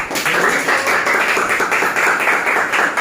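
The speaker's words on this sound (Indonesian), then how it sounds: "Beri tepuk tangan untuk kelompok." A classroom of school students applauds a presenting group after a biology lesson, with dense, even clapping from many hands throughout.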